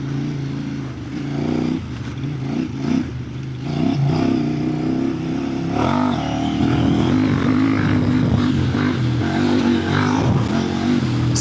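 A KOVE 800X Rally motorcycle engine drones and revs while riding off-road over jumps, a loud, continuous rumble rising and falling close by.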